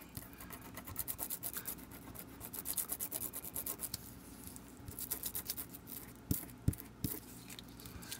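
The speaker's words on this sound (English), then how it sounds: "I just rub my finger over it really, really well." A finger rubbing firmly back and forth over a freshly cut sticker, quiet close-up scratchy strokes in a quick repeated rhythm, with a few sharper taps toward the end.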